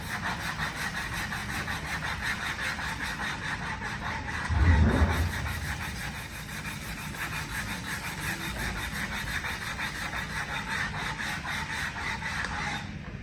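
Steady back-and-forth rasping of hand sanding on a Vauxhall Meriva 1.4 petrol plastic wheel trim during restoration, a continuous close scrubbing rhythm with one slightly louder stroke partway through.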